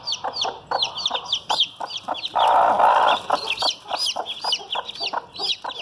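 Chicks of GLZ and ISA Brown laying hens peeping in rapid, high chirps, with a brooding hen clucking nearby and a brief burst of louder hen vocalizing in the middle, all close up.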